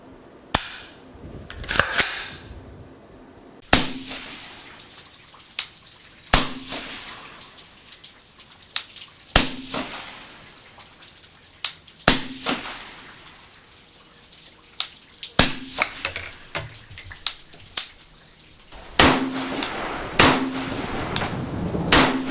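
Sharp metallic clicks of a LaRue Tactical MBT-2S rifle trigger resetting ring out one at a time every few seconds, close and crisp, with soft mechanical handling between them and a quick double click near the end.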